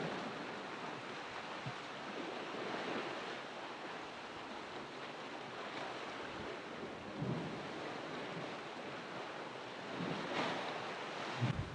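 Ocean waves crash and boom against seaside cliffs, producing a steady roaring surf with heavier surges, broad and continuous, with no voices over it.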